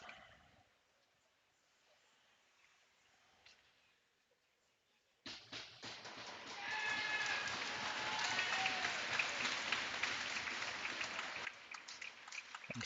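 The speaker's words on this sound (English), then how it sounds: "I'm sure he does it for the applause, but it's good to see Dave back on his feet" Crowd at a Saints vs Sioux City JV game bursts into loud, sustained applause and cheering after a quiet stretch, continuing steadily for several seconds as an injured referee gets back up.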